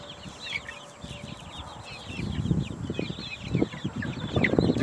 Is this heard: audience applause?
no